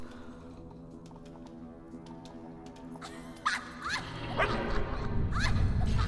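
A dog in the video game Fable 2 lets out a few sharp barks and yips midway, rising over a steady background of ambient game music.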